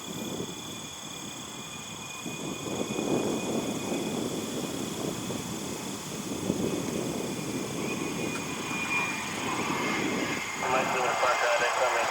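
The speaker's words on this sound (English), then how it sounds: "Another business jet inbound." A Challenger business jet comes in to land at Cleveland, a steady far-off engine roar and whine that rises slightly toward the end, with someone talking over it in places and wind noise at the microphone.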